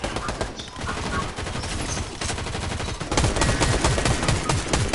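Rapid gunfire from a shooter video game, dense bursts of shots layered over a busy firefight, growing louder and more clustered toward the end, with voices talking faintly underneath.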